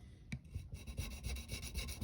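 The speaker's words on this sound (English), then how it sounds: "Make sure that your sanding strip doesn't slip off the fret" Sanding strip rubbed back and forth over the frets of a handmade four-string cigar box guitar, a steady rhythmic scraping rasp at close range with repeated strokes and no talk.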